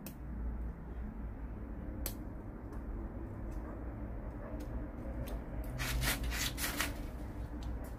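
Sharp Japanese 15-degree blade paring the cut surface of a bonsai branch, producing a series of faint, crisp clicks and scraping snips at irregular intervals, with a cluster of quicker cuts near the end in a quiet room.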